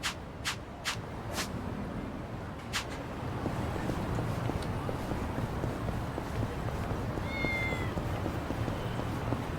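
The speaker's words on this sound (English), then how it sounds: "Hear a cat?" A cat meows several times in quick succession at the start, then once more, over a steady low background rumble with faint shuffling, in the video game Yakuza: Like A Dragon.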